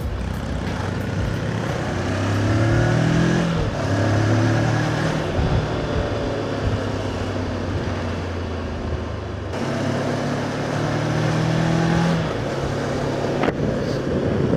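Steady wind rush and engine drone from a Voge DS 525X motorcycle ride, picked up on a DJI Mic Mini with the visor closed; a constant roar with shifting engine tones rising and falling, no voice.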